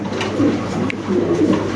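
Domestic pigeons coo at close range, a few soft, low, throaty calls over a brief moment with faint background noise.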